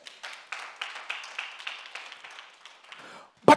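A church congregation gives a short round of rhythmic clapping, fairly faint and evenly paced, ending in a sudden loud knock.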